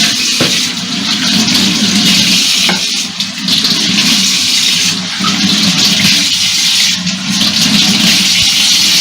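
Water runs steadily from a tap in an outdoor village kitchen while food is rinsed, a continuous close splashing rush with brief shifts in flow.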